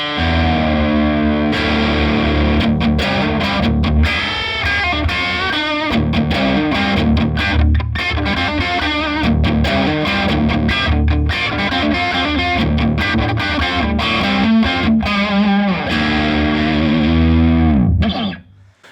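A loud, heavily distorted electric guitar through a Vox Bruno TB18C1 combo amp plays a continuous lead line with sustained notes and bends, ringing out alone before cutting off at the end.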